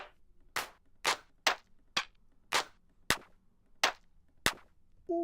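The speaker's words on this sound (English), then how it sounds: "Alright, claps." Nine sharp clap samples fire one after another in Ableton Live, spaced roughly every half second and loud, each a crisp snappy hit with a short tail, ending with a brief tonal blip.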